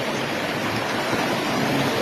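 A river in a Tao village babbles with a dense, even rush of water, close and continuous, with no other sounds above it.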